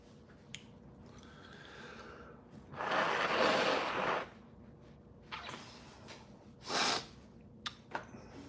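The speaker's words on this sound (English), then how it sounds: "I may have to blow my nose once or twice." A person blows their nose during a live stream, one long loud snort-like blast in the middle, then a shorter sharp burst a few seconds later amid quiet breathing and small rustles.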